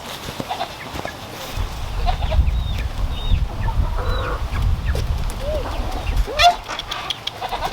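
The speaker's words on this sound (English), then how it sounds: "Oh, my little chick escaped." An eight-week-old chick chirps in a farmyard with goats nearby, giving thin, high peeps scattered over a low rumbling background with soft clucking.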